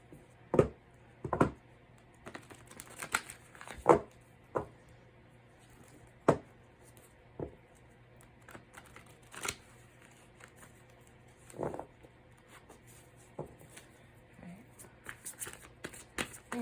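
Tarot cards are shuffled in a series of quick riffling bursts, separated by pauses, close by in a quiet room.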